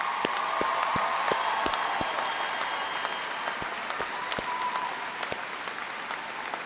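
A graduation audience gives the faculty of Trident Technical College a sustained round of applause. Dense, steady clapping carries on from start to finish, with a few sharper individual claps standing out above the crowd.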